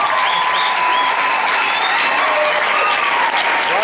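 An audience at a Christian gospel choir concert claps steadily, a dense, sustained wash of applause that stays loud and even from start to finish.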